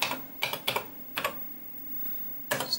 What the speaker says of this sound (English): let's type in my login details